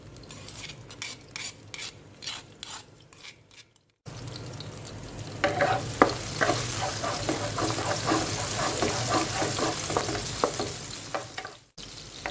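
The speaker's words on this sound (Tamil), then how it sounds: "பூண்டு 1/2 நிமிடம் இந்த அளவுக்கு வதங்கிய பிறகு தட்டி எடுத்த பச்சை மிளகாய் சேர்த்து வதக்கிடலாம்" Garlic and crushed green chili sautéing in a pan, with a few scrapes and clinks before a louder, steady close sizzle with stirring that runs for several seconds and stops abruptly.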